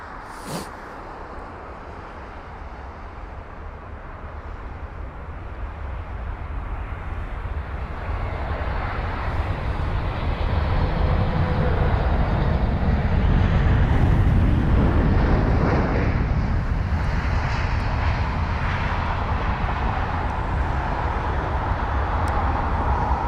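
An Airbus A320neo taxiing to its stand at London Heathrow, a broad engine roar that swells louder through the middle and then holds, heard outdoors with no voices.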